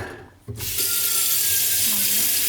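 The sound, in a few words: pouring old coffee out into the sink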